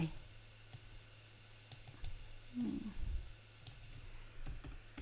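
Someone types on a computer keyboard, producing sparse, faint, irregular key clicks in a quiet room, with a soft voice speaking in between.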